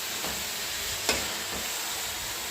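A ladle stirring potatoes into roasted masala in a pan, soft steady sizzling with a few light scraping knocks against the metal, no talking.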